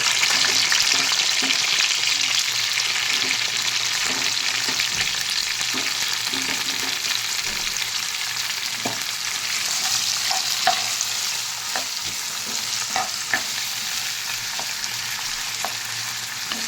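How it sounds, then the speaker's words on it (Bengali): Chopped onion fries in oil for chicken chaap, a loud, dense, continuous sizzle up close, with faint stirring knocks and scrapes scattered through and no voices. "পেঁয়াজ কুচোটা এর মধ্যে ভালো করে ভাজতে হবে।"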